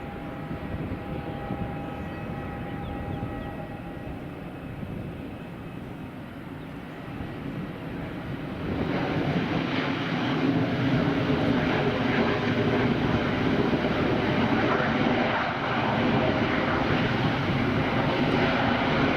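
A TUI passenger jet lands at Madeira Airport, its engines a steady broadband roar. The roar swells louder about halfway through and holds there for the rest of the landing, with no voices.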